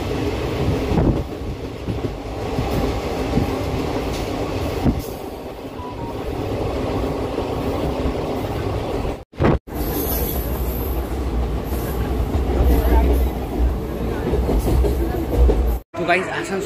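A passenger train running on tracks at Asansol, a steady loud rumble and rattle of carriages with brief dips, heard from on board with voices talking over it.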